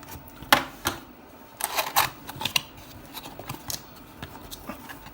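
Someone cuts open the packaging seal on a large Zync Echo wireless Bluetooth speaker box, giving scattered sharp snips, scrapes and rustles in uneven bursts, close by and moderately loud, with no talking.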